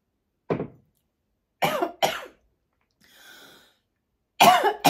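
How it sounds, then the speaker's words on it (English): A person coughs several times in a quiet room, a single cough followed by two quick close coughs, then a soft breathy sound and a final pair of loud, near coughs. "Felt like I had to cough something."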